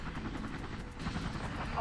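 Helicopter in the emergency-response video game Emergency 3 flying over a busy disaster scene, its steady rotor and engine drone continuous beneath a voice talking throughout, with faint game effects mixed in.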